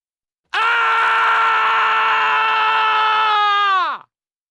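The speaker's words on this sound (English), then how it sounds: "Scream." A single sustained human scream, loud and alone, holding one strained pitch for about three and a half seconds before trailing off.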